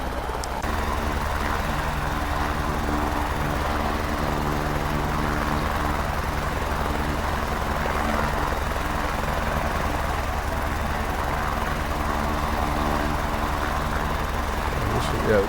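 A Cowan H125 helicopter in a flight simulator game passes by, giving a steady, dense rotor and turbine drone with a low rhythmic throb that stays loud and unchanged throughout.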